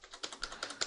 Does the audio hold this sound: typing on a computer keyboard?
yes